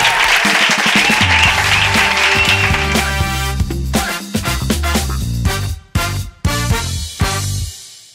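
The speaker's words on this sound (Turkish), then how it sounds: "Alkışlıyoruz Ayaz Bey'i." A late-night talk-show studio audience applauds a guest, a brief burst of clapping blended with loud band music that carries on with sharp hits and short breaks.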